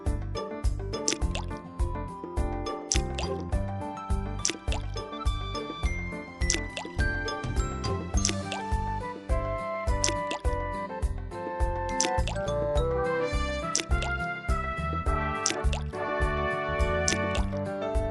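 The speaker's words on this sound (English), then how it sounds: "Please add 28 ice cubes." A long run of ice cubes dropping into water in an ABC Mouse learning game, steady repeated plinks, drips and liquid squishes layered over cheerful tinkling game music, no voices.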